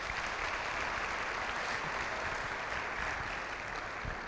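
Applause from a church congregation at a family worship service, a dense, even wash of clapping that stays faint and steady from start to finish with no voices.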